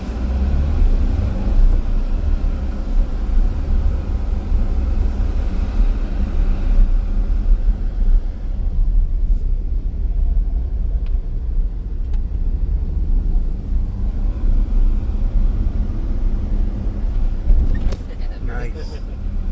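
Engine of a 2024 Toyota Tacoma pulling off-road, a steady, loud low rumble that holds for the whole stretch, with brief talk at points.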